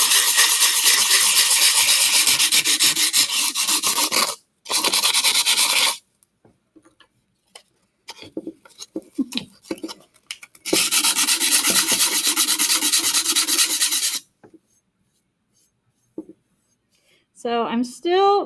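Hand sanding of a wooden project with 80 grit sandpaper, loud scratchy rasping strokes in long bursts separated by pauses, with brief quieter handling noises and a short voice near the end.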